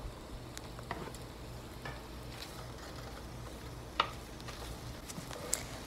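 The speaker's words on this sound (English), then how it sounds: "I'm going to add my smoked sausages to the skillet. And we're just going to brown our smoked sausages as well." Smoked sausages and bacon browning in a skillet give a steady, close sizzle and crackle of frying fat, with a couple of sharper pops and faint stirring, no voices.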